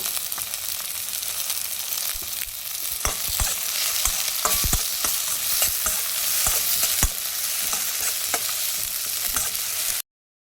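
Chopped half tomato frying in a pan while being stirred, steady close sizzling broken by repeated scraping clicks of the spoon against the pan, no voices.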